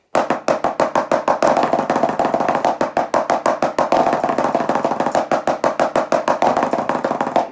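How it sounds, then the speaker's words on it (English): Snare drum played in a percussion warm-up, steady rapid strokes forming a continuous roll that runs evenly and loud for about seven seconds, alone with no talking. "Normally, we would buzz it."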